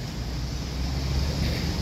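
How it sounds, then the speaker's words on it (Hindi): A steady outdoor wind blows in Wapda Town, Lahore, a continuous low rushing and buffeting against the phone microphone with no breaks and no voices. "ठंडी ठंडी हवा चल रही है"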